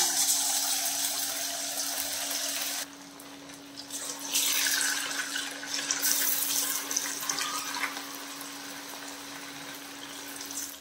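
Anchovies marinated for Nethili 65 deep-fry in oil with a loud, dense, hissing sizzle that drops briefly, then surges back and slowly settles; no speech.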